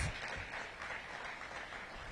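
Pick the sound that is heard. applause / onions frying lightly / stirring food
applause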